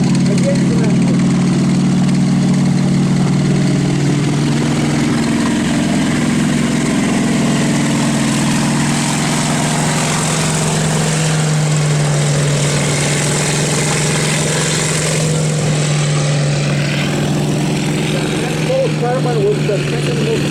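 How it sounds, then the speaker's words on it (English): A Continental R975 radial aviation engine runs inside a World War II Sherman tank at an open house, giving a loud, continuous, steady drone for about twenty seconds, close by. "This is again a Continental R975 aviation engine."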